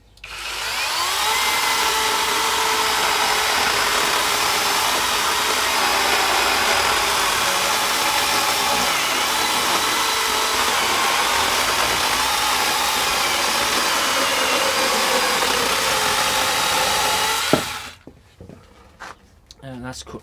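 A Beihong battery-powered 6-inch mini chainsaw cuts through a log, a loud, steady high-pitched motor whine with a chain rasp lasting about seventeen seconds, then stopping abruptly, followed by a few quiet clicks and handling noises.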